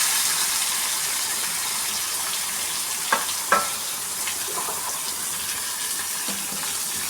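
Onion pieces and curry leaves fry in hot oil in a pan, giving a continuous loud sizzle with a few brief clinks of a utensil partway through.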